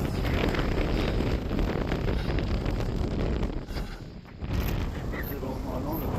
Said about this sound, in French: Là il y a un peu de vent.